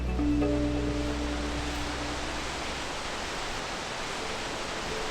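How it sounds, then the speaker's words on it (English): A waterfall in Nishizawa Gorge, Japan, pours as a steady, dense broadband rush of falling water, even and continuous, with a faint low hum at the very start and no voices. "The first of the gorge's many waterfalls."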